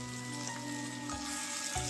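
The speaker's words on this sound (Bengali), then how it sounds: "তবে একদম লো ফ্লেমে ভাজবেন" Fish frying in hot oil over a low flame gives a steady, close sizzle with a soft crackling texture that carries on without a break.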